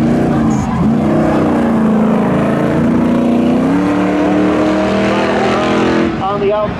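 A Volkswagen Golf R and a Pontiac Firebird race side by side in spectator drags at Seekonk Speedway, engines roaring loud and steady with rising revs as they come off the corner, under a track announcer's voice.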